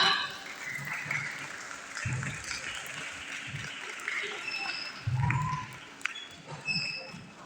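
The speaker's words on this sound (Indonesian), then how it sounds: "Tepuk tangan untuk kita semua." An audience at a school poetry-writing workshop claps together, a sustained patter of applause with a voice talking faintly over it, moderately loud throughout.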